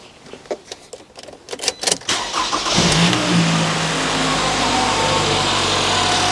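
Clicking and cranking sounds lead into a stone-cold car engine, suspected of a blown head gasket, catching and starting, then running at a steady, loud idle close by.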